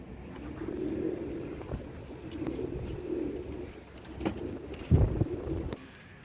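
Pigeons coo repeatedly on a rooftop where birds settle, low throaty calls in an uneven rhythm against steady outdoor background noise, with a louder burst of cooing or wing movement near the end.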